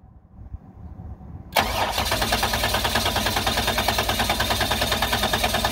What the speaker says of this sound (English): I had a helper crank the engine over for me